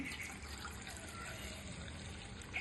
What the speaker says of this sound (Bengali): আমি জল দিয়ে নিচ্ছি